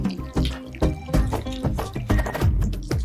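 Hot tempering is poured over beetroot curd rice, giving a short run of soft liquid splashes and light crackles up close, fairly quiet, with no talking.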